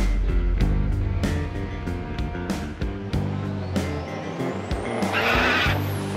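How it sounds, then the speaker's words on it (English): A diesel Chevy Silverado pickup's engine roars continuously during a drag strip run, with repeated gear-shift surges and a rising whine, heard up close without any talking. "this is the very first pass that we're gonna make down the drag strip in this truck"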